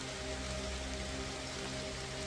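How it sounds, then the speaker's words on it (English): Steady rain falling on a surface, a continuous even hiss with no talking, alongside a faint low mechanical hum. "I'm in the rain. Raindrops are falling on my head."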